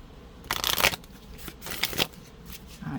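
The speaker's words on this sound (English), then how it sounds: "I'll give these a quick shuffle." Tarot cards being shuffled by hand in two close, brisk bursts of riffling and flapping, with quiet pauses between and no talk.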